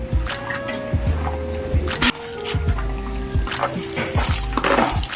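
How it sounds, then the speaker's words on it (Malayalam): Water sprays and splashes from a hose in uneven bursts against the sides of a backyard fish pond under construction, close by, with gurgling and dripping between gushes. "ആദ്യം നമുക്ക് ഇത് ഈ സൈഡൊക്കെ ഒന്ന് വെള്ളം അടിച്ചെടുക്കാം"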